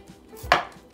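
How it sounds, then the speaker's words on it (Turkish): Knife finely chopping red cabbage, a single sharp, close cutting thud on a board against quiet background. "Lahanalarımızı ince ince doğradık"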